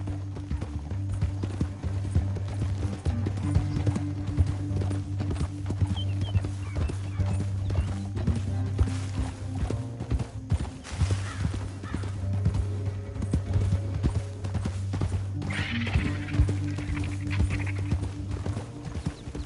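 Continuous rhythmic clip-clop of horses galloping in the video game Red Dead Redemption 2, steady and fairly loud throughout, with a low rumbling drone underneath and a brief whinny partway through.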